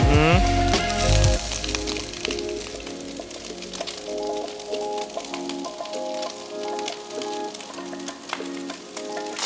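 Chopped onion, spring onion, garlic and ginger sizzle steadily in a hot oiled pan, a continuous loud frying hiss with crackles, preceded by a brief louder splash as they hit the oil; no talking.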